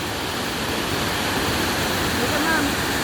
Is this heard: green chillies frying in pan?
no